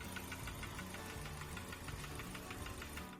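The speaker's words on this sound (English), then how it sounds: "And here's everybody's favorite engine with all the knock-knock jokes." A car engine with a bad knock runs close by, a quick, regular metallic knocking that repeats steadily over its idle rumble, fairly faint and without voices.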